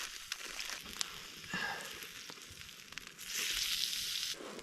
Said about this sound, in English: I use a little bit of this lard to grease my pan. Throw in some potatoes.